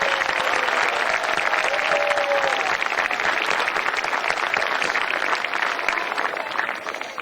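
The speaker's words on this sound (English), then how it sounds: "Would you give each and all of them a round of applause one more time?" Warm, steady applause from the crowd at a school Veterans Day celebration, honoring veterans, many hands clapping together at an even, full level with a faint whistle early on, tapering slightly toward the close.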